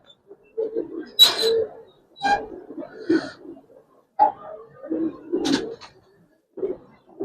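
Giribaz pigeons cooing at close range, a series of soft throaty bursts repeating in uneven rhythm with brief quiet gaps between calls, with no talking.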